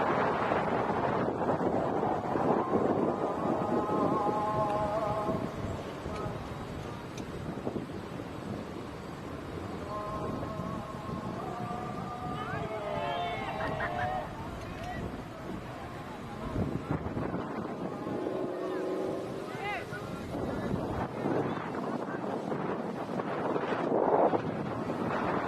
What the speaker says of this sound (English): A strong wind. It's a very strong wind.